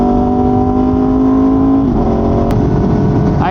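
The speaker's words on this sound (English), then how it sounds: "Listen to those downshifts." A tuned Aprilia superbike engine revs loudly and close through a series of downshifts, its steady high drone dropping in pitch partway through, with a sharp blip near the end.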